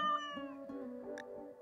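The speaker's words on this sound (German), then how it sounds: "Die Katze jagt wieder eine Ratte." A cat in the Rimworld colony-sim game lets out a clear, close meow while hunting a rat; the drawn-out tonal call bends slightly in pitch and is followed by a short, higher squeak.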